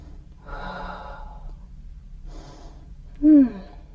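Deep, slow breaths drawn in and let out during a standing yoga stretch, two soft airy breath swells followed by a brief louder gasp-like inhale, close and unaccompanied by talk.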